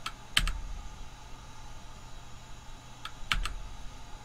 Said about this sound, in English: It's definitely one of these buttons on your keyboard.